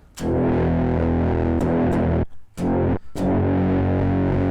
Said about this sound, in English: output 3 is kind of like our distortion audio